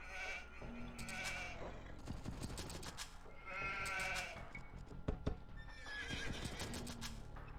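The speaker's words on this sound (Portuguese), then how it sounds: "4 ovelhas, uma atrás delas" Sheep bleat among neighing horses and clip-clopping hooves in an Age of Empires 2 match, several animal calls repeating over a steady, dense bed of game sound with no talk.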